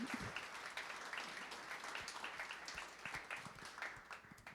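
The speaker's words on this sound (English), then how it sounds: "Applause, yes, awesome." A crowd claps steadily for several seconds, dense and even applause at moderate distance.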